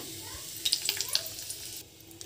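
Lentil dumplings (bori) fry with black cumin and dried chilli in a quiet sizzle, broken by a cluster of small crackling pops that fades to a softer hiss.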